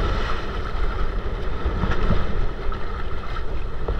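Strong northeast monsoon wind at sea buffets a fishing boat, a constant loud roar of wind and waves that runs unbroken throughout, with no voices.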